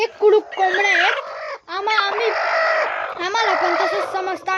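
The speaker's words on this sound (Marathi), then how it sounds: "जेव्हा हे असं करतात तेव्हा समजून घ्यायचं की हे कुडूक कोंबड्या आहेत." Hens cluck and warble in long, nasal, wavering calls, close and loud, several birds overlapping with only brief pauses between phrases.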